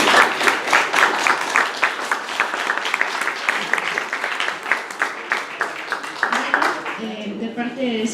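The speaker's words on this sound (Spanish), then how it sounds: "Un fuerte aplauso para ellos" Audience applause for panelists at an academic debate, a warm burst of clapping from a seated crowd that carries for several seconds and then fades as a voice begins speaking.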